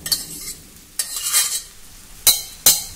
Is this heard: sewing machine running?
no